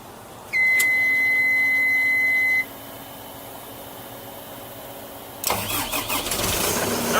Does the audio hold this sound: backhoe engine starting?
yes